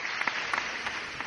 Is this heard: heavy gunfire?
no